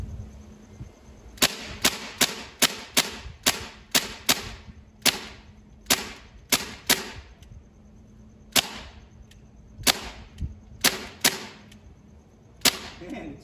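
Umarex XBG CO2 BB gun firing in a string of sharp, loud snapping shots, sometimes in quick bursts and sometimes spaced a second or two apart, with faint background hum between them.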